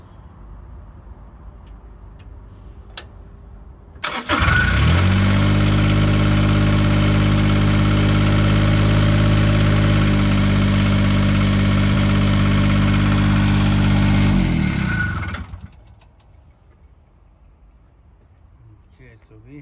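A diesel engine on a Niftylift HR15/17 SP45/50 access lift cranks and catches, then idles loudly and steadily for about ten seconds before shutting off, with birds faintly audible before and after.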